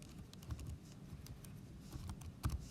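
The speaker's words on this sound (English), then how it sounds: "Just typing that in my calculator." Soft, irregular clicking of small calculator keys being pressed, a quick patter of taps with a slightly louder press near the end, close by and quiet.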